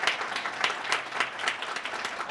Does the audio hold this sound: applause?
yes